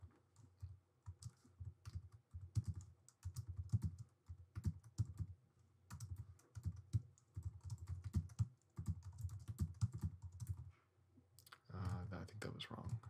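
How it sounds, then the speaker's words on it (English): Typing on a computer keyboard while composing music in Pico-8, with quick irregular bursts of key clicks and short pauses, close and fairly quiet, and a brief voice near the end. "You can do things on the keyboard."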